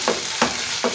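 Mawa (khoa) is roasted in a pan for gujia, giving soft sizzling and three quick scraping stirs spaced evenly, close and moderately loud.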